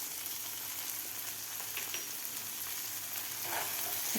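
Green peas frying with salt and garam masala in a pan, a soft, steady sizzle with faint stirring scrapes near the end.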